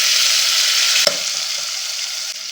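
Onions, dried red chillies and freshly added tomato fry in a pan for Andhra tomato pappu, producing a loud, dense, continuous sizzle with one short clack near the start, heard up close and alone.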